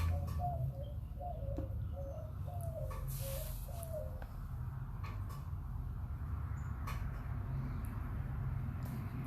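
A series of soft, hollow hoots repeats rhythmically near the start, then fades, leaving a low steady background rumble.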